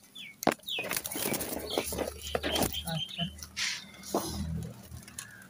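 A young pigeon in a loft flaps its wings in several quick, close bursts of fluttering, with someone talking over them.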